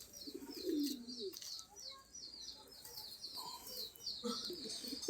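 A pet-shop pigeon gives low, quiet coos among flocked birds, with brief chirps and soft rustling throughout and a few more coos toward the end.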